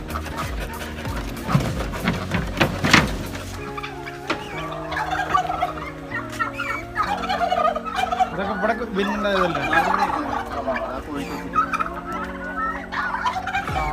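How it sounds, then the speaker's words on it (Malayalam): Turkeys on a farm gobble in bursts of warbling calls, with a person speaking over them and some scattered clucking from farm hens and rustling nearby. "ഇതിൻ്റെ ഉള്ളിൽ ഒരു ടർക്കി ഉണ്ട്"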